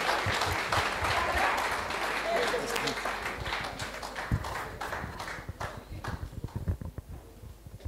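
An audience at a Mafukuzela Day event claps in a loud, dense burst that thins into scattered, uneven claps and a few sharp individual hand strikes toward the end.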